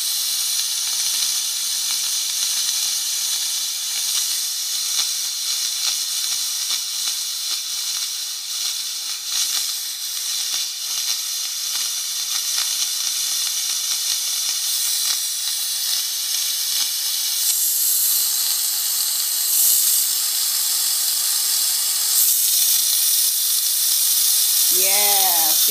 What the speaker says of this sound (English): So this is the steamer I use. It's EuroPro Shark Steamer.